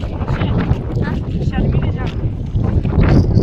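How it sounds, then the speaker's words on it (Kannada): Wind blows across the microphone outdoors along a village road, a constant loud rumble and buffeting throughout, with people talking underneath. "ನಿಮಗೆ ಇಲ್ಲಿ ಗಾಳಿನೂ ಮಸ್ತ್ ಬರತೈತಿ"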